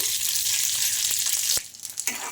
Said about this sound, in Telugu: ఇవన్నీ వేసేసుకొని బాగా ఫ్రై చేసుకోవాలి